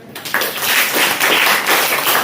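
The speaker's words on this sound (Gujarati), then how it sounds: "રાજવીર માટે જોરદાર તાળી દઈએ" A classroom of children bursts into a short, lively round of clapping for a classmate, the claps dense and fairly close.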